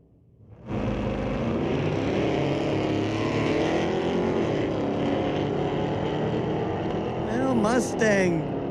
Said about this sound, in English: Mustang, quite a bit of wheel spin on the start.